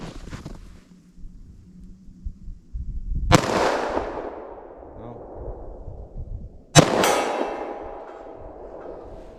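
Two sharp gunshots from short-barrel revolvers in .357 Magnum and .45 ACP, outdoors, each a loud crack with a long ringing decay, spaced a few seconds apart over low wind and background rumble.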